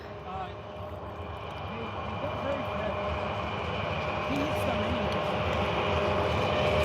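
A train in Russia rumbles past with a broad, steady roar that grows louder over several seconds, thin metallic squeals riding on top.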